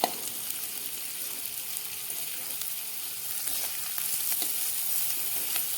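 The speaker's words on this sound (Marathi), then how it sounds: "हा कांदा आपल्याला आता छान असं सोनेरी रंगावर आता परतून घ्यायचा आहे" Finely chopped onion and cumin seeds fry in hot oil in a pan, a constant bright sizzle with occasional pops and stirring scrapes that grows slightly louder toward the end.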